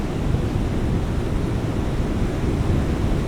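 Choppy sea surf churning in a steady broadband roar, close and continuous with some wind buffeting, with no voices.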